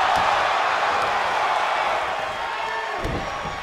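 A wrestling arena crowd roars and cheers continuously during a match, a dense, loud wash of voices with a sharp slam-like thud near the end as the noise slowly eases.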